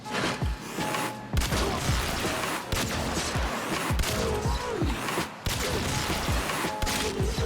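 Rapid automatic gunfire and impact crashes in the shooter game Warframe, sustained bursts at Heavy Gunner enemies with brief gaps between volleys, loud and dense.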